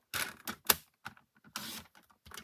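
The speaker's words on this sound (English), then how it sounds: "I'm going to cut 4 strips" Scissors cut half-inch strips of paper for an autumn craft, close by. There are several quick crisp snips and slices in a short irregular burst, with no voices.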